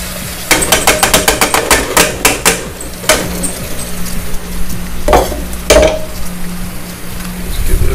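Squid sizzling and frying in hot olive oil in a pan, with a rapid series of sharp clatters and scrapes as pieces go in and are moved, then a steady loud hiss underneath, close.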